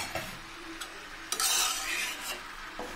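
A spoon stirs ash gourd curry with a little sugar in a pan, a few close scrapes and clinks over a soft sizzle that swells briefly midway, with no talking.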